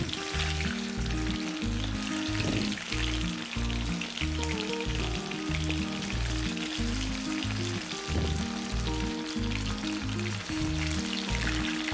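Small anchovies (natholi) dipped in batter fry in hot oil in a pan, a constant, dense, crackling sizzle lasting throughout, close and steady, with a few brief stirs from a spatula and no talk.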